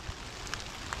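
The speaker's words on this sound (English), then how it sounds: "You can see the rain is starting to pick up" Rain falls steadily through a forest on a Rhode Island woodland hike, a continuous hiss of drops on leaves with a few louder close patters standing out.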